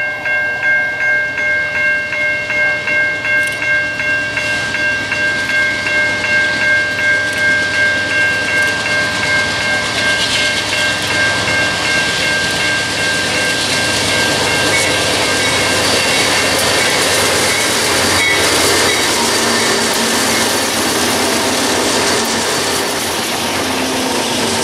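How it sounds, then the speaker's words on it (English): A BNSF intermodal freight train rolls through a railroad diamond crossing, a steady loud rumble of wagons with horn tones early on and rhythmic clatter as the cars pass, with no voices. "BNSF intermodal train comes through the diamonds."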